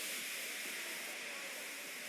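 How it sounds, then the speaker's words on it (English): A steam engine weakly lets off steam, a faint, steady hiss that holds evenly for a couple of seconds with nothing else heard. "He just let off steam feebly."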